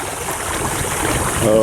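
Irrigation water gushing steadily out of a field valve for flood irrigation, a continuous close rushing, splashing flow that swells slightly louder near the end.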